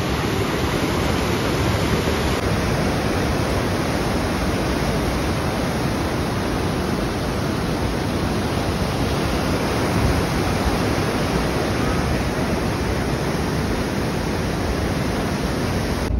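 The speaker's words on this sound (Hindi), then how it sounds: "तो भाई सफर में आपको ऐसे वाटरफॉल काफी देखने को मिलेंगे।" Waterfall beside the Kedarnath trekking path in the Himalayan mountains, a steady, loud, broadband rush of falling water that fills the whole stretch without pause, close by and alone with no voices.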